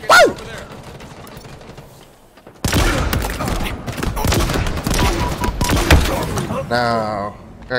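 Gunshots in a shooter video game: after a quieter opening, dense rapid bursts of gunfire erupt and continue loudly, with players talking over the shooting.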